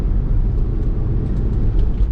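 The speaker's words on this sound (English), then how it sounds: "excuse the noise if you can hear the blower going" Steady broadband whoosh of the air conditioning blower running inside a Porsche 996 Carrera 2, a constant airy rush with low rumble, continuous and fairly loud with no talk.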